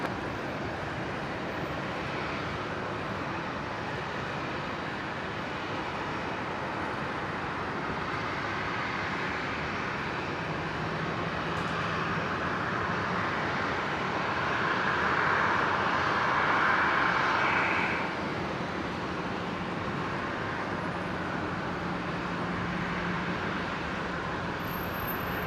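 A Singapore Airlines jet lines up for departure at Brisbane International, its engines a broad steady rumble heard from a distance, swelling slightly midway before settling back.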